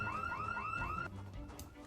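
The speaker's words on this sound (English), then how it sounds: "Why does the church have an alarm?" A rising, repeating electronic whoop alarm wails from a church in Project Zomboid, sounding in several quick cycles before cutting off abruptly, leaving faint background noise.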